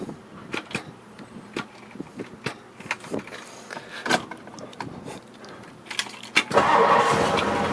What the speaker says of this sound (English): We've got it in neutral, getting ready to fire it up.